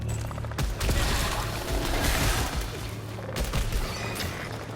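Dense bursts of rapid gunfire with explosive booms and crashes, loud and continuous throughout, sounding like a busy firefight in the game Returnal.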